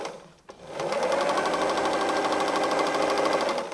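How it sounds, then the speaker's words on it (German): A sewing machine starts after a brief pause and runs steadily, stitching patchwork fabric with a close, even rapid chatter of the needle for about three seconds. "Und wir nähen los."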